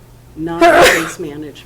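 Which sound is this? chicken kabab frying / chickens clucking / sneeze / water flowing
sneeze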